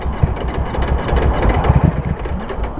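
Ducati Streetfighter V4 engine cranking after running out of fuel, a loud, close, rapid churning that keeps turning over without catching.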